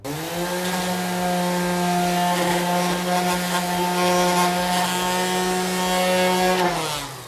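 A power sander with protruding sandpaper and no edge guard whines loudly with a steady pitched drone as it grinds along a wooden edge, roughening it, then winds down at the end.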